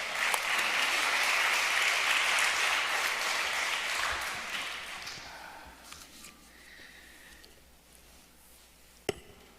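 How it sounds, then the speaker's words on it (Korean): A congregation at a Korean United Methodist regional retreat applauds to welcome a pastor, loud dense clapping that holds for several seconds, then thins and fades away, ending with a lone sharp knock. "큰 박수로 환영해 주시기 바랍니다."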